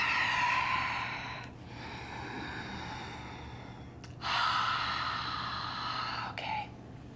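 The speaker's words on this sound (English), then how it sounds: "take a big breath." Deep breaths taken during a yoga demonstration of Chaturanga: long, loud inhales and exhales, each several seconds long, close to the microphone against a steady low background hum.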